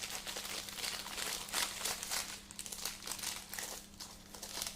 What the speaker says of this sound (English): we need to get this paper off as carefully as you can